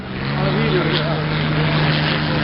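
A German military aircraft attacks during a battle reenactment, its engine a loud, steady drone with a low hum that holds throughout, while a voice talks over it.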